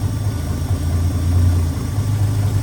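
A car engine idles steadily, a low rumbling hum with a faint vibration that holds constant throughout, with no voices.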